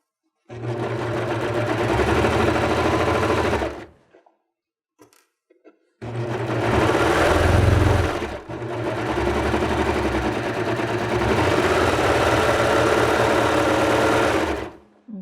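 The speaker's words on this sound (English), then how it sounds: "The key here is just to make sure that the fabric is feeding into the serger nice and straight." A serger overlocks the edge of summer dress fabric, whirring loudly and steadily in two long runs with a short gap between them and no talking.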